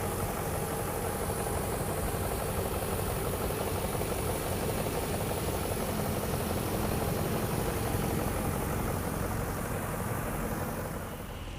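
A 2002 BMW 540i V8 engine idles steadily and loudly with a deep, even rumble and no voices.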